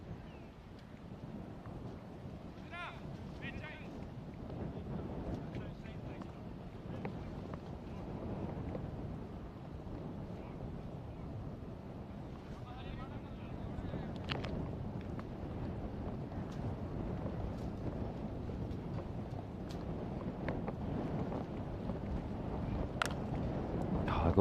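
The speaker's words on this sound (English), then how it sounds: "Just emphasizes how windy it is right now." Strong, gusty wind buffeting the microphone at a dusty cricket ground, a low rumbling roar that swells and dips continuously with occasional faint clicks and no clear talk.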